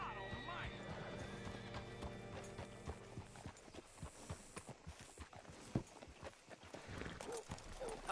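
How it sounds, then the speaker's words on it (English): Horse hooves clip-clop steadily in the Red Dead video game, and a horse whinnies close by. Game music and ambience play underneath, and voices talk over the hoofbeats. "Hitch your horse up here."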